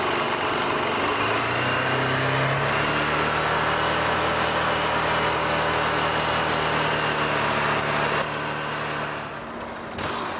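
A dog-waste collection motorcycle runs its vacuum through a green suction tube into a tank on the back, giving a loud, steady engine drone that holds throughout and eases slightly at the end.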